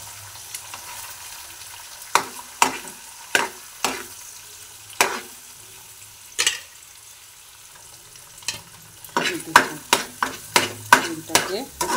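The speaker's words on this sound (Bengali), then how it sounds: "ডিমটাকে আমি এর সঙ্গে এইভাবে ভেজে নেব" An egg frying in a pan for egg mini rolls, with a soft sizzle under a series of sharp utensil taps and scrapes that come sparsely at first, then cluster quickly near the end.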